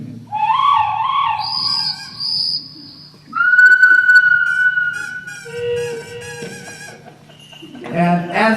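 A man whistles bird calls, imitating birds chirping and singing in a field, with trilling warbles, long sliding tones and short tweets in bursts over about eight seconds, close and fairly loud, with light background murmur.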